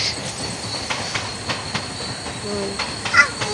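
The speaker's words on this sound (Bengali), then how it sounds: "ট্রেনের আওয়াজ হলো" A train rolls past with rhythmic clacking of wheels and a brief metallic squeal, heard from some distance with no talking.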